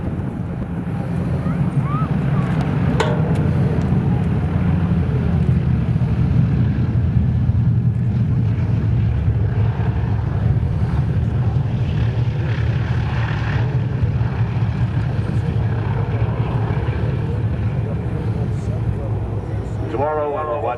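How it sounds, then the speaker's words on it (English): Boeing B-29 bomber with Wright R-3350 radial engines coming in to land at a WWII airshow, a steady broad propeller drone held throughout with wind buffeting the microphone and a voice talking over it. "Coming back for landing is Fifi, the only flying B-29 in the world today."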